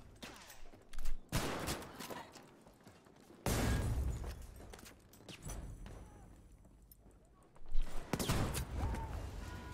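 Shotgun fire rings out in the Battlefield V video game, loud close blasts in separate bursts with quieter gaps of background game noise between them.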